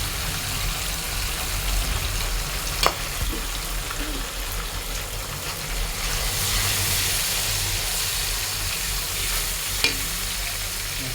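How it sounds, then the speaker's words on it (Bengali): Spices and chillies, including dried red chillies and green chillies mixed with chicken powder, fry in hot oil for a fish hot pot, giving a loud, continuous hiss and crackle with a couple of sharp clinks from stirring. "কিছু সময় তেলে ভাজতে হবে।"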